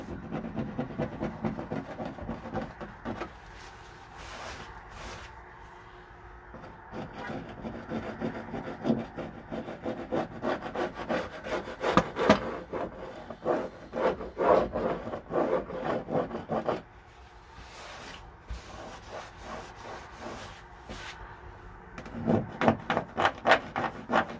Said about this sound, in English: You have to be careful with a metal scraper because it is easy to dig into your wall.